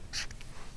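A pen or pencil scratches briefly on paper while numbers are drawn by hand, a short close scribble with a couple of quick strokes and no talking.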